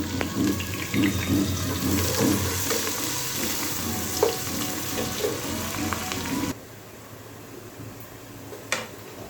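Chopped onion and a few garlic cloves frying in a pan for a chicken dak bungalow curry, a steady close sizzle with occasional stirring scrapes that drops to a quieter hiss partway through.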